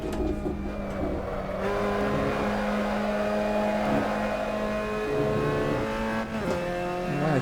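A race car engine in the Assetto Corsa racing game at Silverstone drones loudly and steadily at high revs, with gear shifts near the end, and no voices over it.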